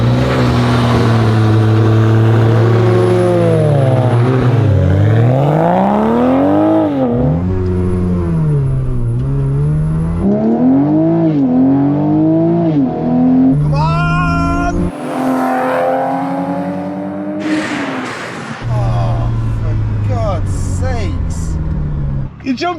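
A Toyota Supra launching from a start line against a modern van, engine revving hard and rising through gears with a loud whine, as voices talk over the roar.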